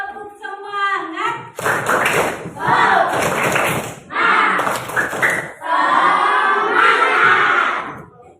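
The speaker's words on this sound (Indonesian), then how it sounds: "Tepuk semangat." An elementary school class performs a rhythmic spirit clap. Children chant together, then break into loud, patterned bursts of clapping in timed groups with brief pauses between them, their voices mixed in throughout.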